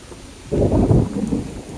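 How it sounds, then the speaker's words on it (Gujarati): A deep roll of thunder rumbles in over steady rainfall, swelling suddenly and then lingering as a low, heavy growl. "હે ગાજે હે ઓ વીજળી પડે એવું લાગે છે"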